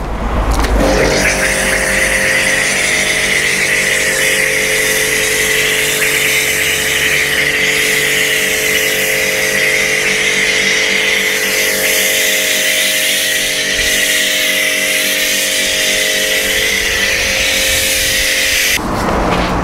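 A pressure washer sprays snow foam onto a car, a loud continuous hissing spray over a steady motor hum and whine that runs nearly twenty seconds before cutting off abruptly near the end.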